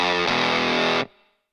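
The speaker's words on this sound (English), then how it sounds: "using the Analog Man Peppermint Fuzz, which is a kind of souped up fuzz face, quite bright and buzzy" A bright, buzzy fuzz-distorted electric guitar chord through an Analog Man Peppermint Fuzz pedal is strummed and held for about a second, then stopped abruptly with a short decay.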